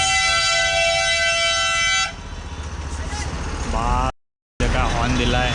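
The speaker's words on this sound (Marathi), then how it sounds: "काय हॉर्न दिलाय, एवढा मोठा हॉर्न." A very loud vehicle horn blares on a steady tone for about two seconds near a temple area by a waterfall in Chiplun, followed by engine rumble and people talking.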